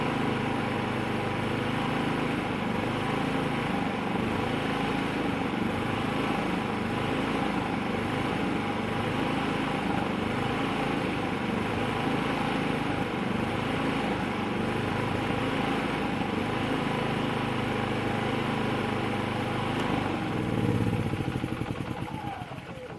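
A Predator 3500 generator engine runs steadily, a loud continuous drone that holds an even pitch for over twenty seconds and then begins to fade near the end.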